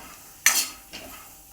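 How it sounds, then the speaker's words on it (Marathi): Green chickpeas are stirred while they roast in a pan. A single scraping clatter of a spoon against metal is followed by a fainter second scrape over a quiet, low sizzle. "तीन ते चार मिनिट भाजून घ्यायचे आहेत हरभरे"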